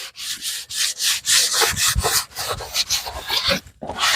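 A rag rubs back and forth over a freshly glued wooden piece in steady, rhythmic swishing strokes, close and loud, briefly pausing near the end before resuming.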